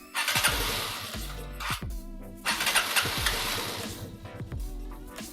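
An Aprilia Scarabeo scooter engine, just repaired after carburetor and coolant work, cranks and catches several times, sputtering up in short bursts with dips between each attempt, close and moderately loud.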